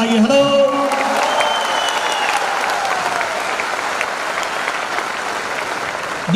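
Audience at a network-marketing training seminar breaking into applause, a dense, steady wash of many hands clapping that fills the room for several seconds after a voice briefly speaks at the start.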